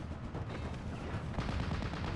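Flak gunfire in a real-time strategy game striking a tank destroyer, a dense rattling burst of rapid shots and impacts that holds steady and loud for a couple of seconds.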